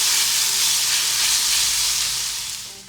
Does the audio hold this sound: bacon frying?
yes